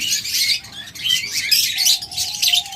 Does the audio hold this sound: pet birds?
yes